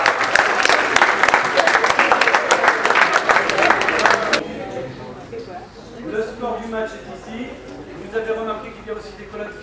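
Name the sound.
audience applause at improv theatre match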